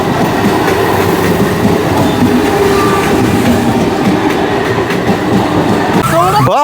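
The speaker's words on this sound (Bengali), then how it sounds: "ট্রেনটা ক্রস করে যাওয়ার পরেই" A passing train rumbles and clatters steadily on the rails at a Tarakeshwar pilgrimage crossing, loud and close throughout, with a brief squeal as it clears.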